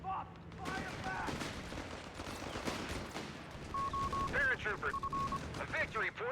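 Rapid bursts of gunfire and combat effects in a Company of Heroes 3 tournament match between Wehrmacht and US forces, dense and continuous, with electronic tonal beeps layered in.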